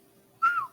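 A person gives a single short whistle, a brief clear tone that dips slightly in pitch, alone against a quiet background.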